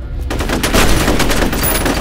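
Rapid, loud shotgun blasts from the first-person shooter F.E.A.R. hit in a dense, overlapping burst of gunfire that lasts about two seconds, with no voices.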